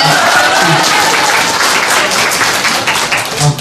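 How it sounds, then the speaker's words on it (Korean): A crowd applauds at a press event, the clapping loud, dense and sustained through the whole stretch. "박수 한번 우리 보내고"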